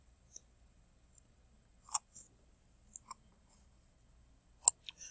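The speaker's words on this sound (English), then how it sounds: "opening up a blank document by double-clicking on the right part of your mouse" A computer mouse clicks in a quiet room: sharp, faint taps arrive in a few quick pairs spread over several seconds, with silence between them.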